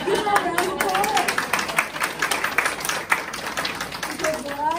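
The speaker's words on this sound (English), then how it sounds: "Give her a round of applause" Applause from an evening gathering audience at a garden talk in Tega Cay, South Carolina: a dense, steady patter of many hands clapping at close range, with faint voices mixed in.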